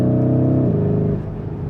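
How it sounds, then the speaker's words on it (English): A Lamborghini Urus engine and exhaust drone steadily from inside the cabin, a loud low tonal hum that shifts pitch and eases off partway through. "because the sound of the engine is that nice,"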